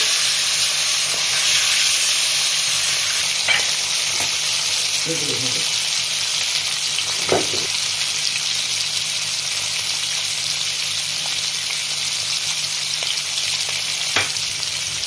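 Padma hilsa fish pieces with turmeric fry in a pan, a loud steady sizzling hiss close by, with occasional spatula knocks and scrapes as the pieces are turned.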